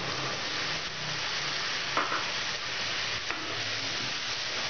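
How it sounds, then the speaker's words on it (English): Tomato puree hitting a hot pan with onion paste, a steady moderate hiss and sizzle close by, broken by a couple of faint spoon clinks. "And add the tomato puree."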